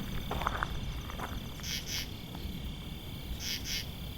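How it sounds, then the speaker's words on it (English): A katydid-type insect calls at night in short paired buzzy bursts, repeated twice, over a steady thin background chorus of other insects. "Not a grasshopper, is my guess. Maybe a katydid of some kind."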